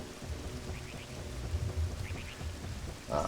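Rain in the Ocarina of Time video game, a dense steady patter of drops with a low rumbling undertone, brief and close.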